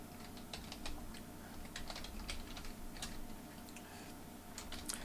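A computer keyboard clatters under steady typing as Visual Basic code goes into Excel's developer editor. Dense, even keystrokes run close and continuous with a few louder taps, and no one speaks.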